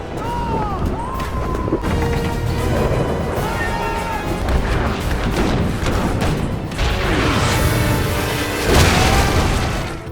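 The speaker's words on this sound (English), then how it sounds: "The two ships clashed in a storm, cannons roaring." Cannons roar in a stormy ship battle, with heavy booms and crashing impacts layered over a dense, loud mix of clanking mechanisms and dramatic cinematic sound.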